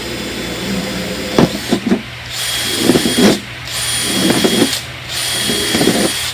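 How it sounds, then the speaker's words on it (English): Several short bursts of a small power drill whirring close by as it makes holes in the bottom of a plastic milk jug, separated by pauses with faint clicks and handling noise. "make small drainage holes on the bottom of the jug with scissors or a drill"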